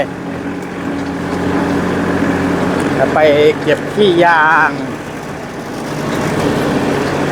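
A Kubota tractor engine drones throughout at a constant low rumble while climbing a hill, and someone speaks briefly over it in the middle.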